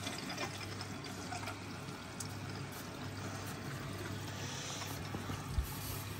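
Water flows steadily into a Beko WMB81341LS washing machine as it fills, a faint continuous rushing with a low hum underneath and a small knock near the end.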